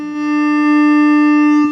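A steady electronic tone with stacked harmonics whines from a factory amplifier in an Acura MDX as the volume knob is turned, holding level and pitch for under two seconds before a brief dip at the end.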